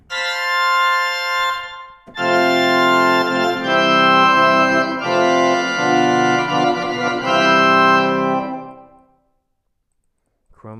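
A two-manual American classic organ plays full chords with all the loud stops of the great combined, several bright sustained swells that end in a release and a brief silence, with no talking over the music.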